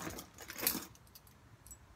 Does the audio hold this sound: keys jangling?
yes